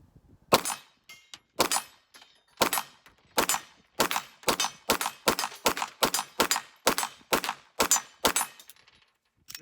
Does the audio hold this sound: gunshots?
yes